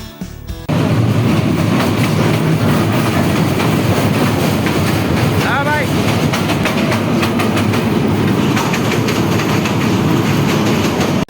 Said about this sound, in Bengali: এটা তো ট্রেন না এটা তো সাঁচায় মালগাড়ি